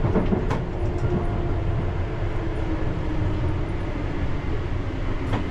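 A London Underground train runs over points near Heathrow. It makes a steady, close rumble with a couple of sharp wheel clacks near the start and end.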